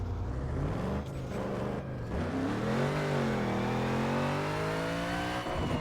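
A tuned car on a dyno run making about 414 kW, its engine revving in long rising sweeps that climb through the gears, loud and close with no talk.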